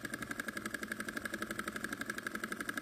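A miniature Dongfeng diesel engine runs at a steady idle, giving a fast, even, close chugging pulse with a constant mechanical hum and no talk.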